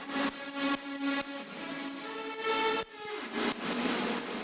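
Reverb tail of a synth lead from a remix, sounding alone with the lead muted: a sustained, washy harmonic pad that swells and pulses in short sections, fairly loud and steady with no voices.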